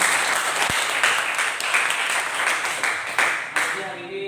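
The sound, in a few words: applause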